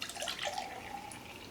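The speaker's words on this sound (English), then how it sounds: "what you want to do is pour off some of your juice" Store-bought juice is poured off from its container to leave headroom for homemade wine, a steady splashing liquid stream under faint background hiss.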